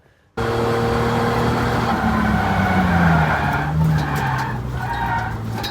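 A race car loses its rear end coming out of the last corner at Area 27 track, giving a loud sustained tire skid over the engine's drone, with a sliding pitch and a brief squeal near the end.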